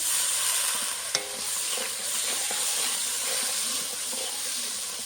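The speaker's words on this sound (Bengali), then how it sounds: "এখন মশলাটা ভালো করে কষিয়ে নেব" Spice paste with salt and chili powder sizzles steadily in a pan for a Bengali fish curry with potato, flat beans and eggplant, a constant frying hiss broken by a sharp spoon scrape and soft stirring taps.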